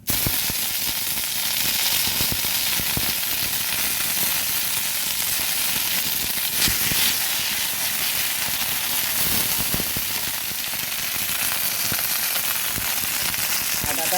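Ginger paste splutters in hot mustard oil, a loud unbroken hiss with scattered sharp pops and crackles throughout, no voices.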